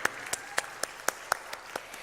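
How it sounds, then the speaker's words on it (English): Sparse, scattered handclaps from a small audience at a school awards ceremony, about a dozen distinct claps spread unevenly over two seconds, fairly faint in a reverberant room. "Please clap for them."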